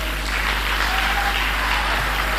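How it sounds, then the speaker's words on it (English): An audience bursts into steady, sustained applause, a thick wash of many hands clapping at even loudness throughout, with no voices over it. "Clap for this man."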